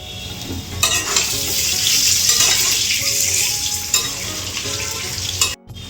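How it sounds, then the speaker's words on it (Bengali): Potatoes fry in a pan of oil over a village cooking fire, giving a steady, close sizzle with occasional stirring scrapes, then cutting off briefly near the end. "আলুটা ভাজা"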